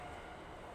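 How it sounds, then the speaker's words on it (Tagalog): A train rolling past at night in Japan, a faint, steady rumbling wash of rail noise heard from a distance without talk. "Dumana naman train."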